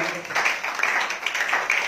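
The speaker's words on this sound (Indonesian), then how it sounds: "Beri tepuk tangan yang terbaik buat Tuhan." A church congregation applauds during a sermon, a steady wash of many hands clapping together for about two seconds, with a voice over the top.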